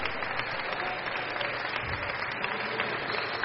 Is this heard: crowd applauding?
yes